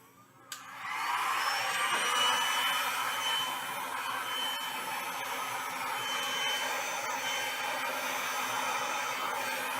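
A heat gun blows steadily over Stone Coat resin artwork, a loud continuous whooshing roar that starts abruptly after a brief click and holds nearly constant for the rest of the clip, with no talking.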